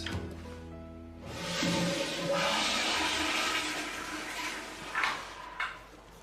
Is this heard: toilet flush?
yes